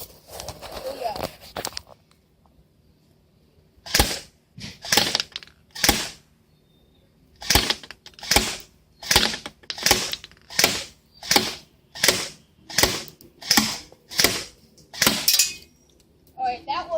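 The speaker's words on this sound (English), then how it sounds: "Alright, I'll be shooting at the target now." A Pulse R76 toy gun fires a rapid string of about a dozen sharp, evenly spaced shots at a target from ten feet away, after a short quiet pause.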